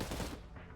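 Full-auto gunfire from the video game Cyber Knights: Flashpoint, a loud dense burst of rapid shots with no talk.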